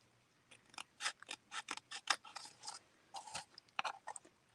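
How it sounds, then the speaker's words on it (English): Scissors snip through card stock while trimming a fold card, making a close, quiet series of short, crisp cuts in irregular bursts. "I don't want to cut off too much, but just want to cut off enough that it will fold nicely."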